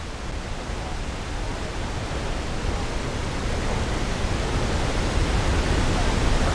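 Mooney Falls in Havasupai pours down in a steady, dense roar of rushing water that swells slightly louder over several seconds, with no other sounds standing out.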